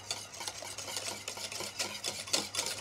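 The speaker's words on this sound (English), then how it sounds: "So now I've stirred through my gelatine." Gelatine being stirred into a warm mix for apple, honey and liquorice spheres, a steady run of rhythmic scraping strokes from a utensil against a bowl, close and moderately loud over a low hum, no talking.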